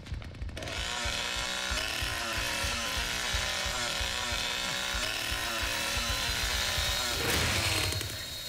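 Chainsaw roaring in the Texas Chain Saw Massacre video game, a loud continuous buzzing engine drone with rough rhythmic revving that holds steady throughout before a brief surge near the end.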